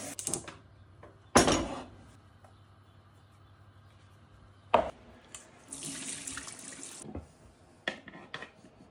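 Cold water runs from a kitchen tap over new potatoes in a pan, with short loud gushes and a longer steady stream between clunks and handling noises, close by.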